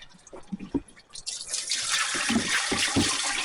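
Water gushes and splashes out the bottom of a 1944 John Deere BW tractor during a flush, starting with scattered drips and knocks, then becoming a steady, loud broadband rush that runs for the last two seconds.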